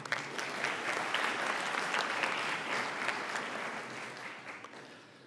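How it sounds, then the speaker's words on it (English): A crowd applauding students at a School of Pharmacy white coat ceremony: dense, sustained clapping that holds steady for several seconds, then thins slightly toward the end. "A well-deserved round of applause at this time for our students"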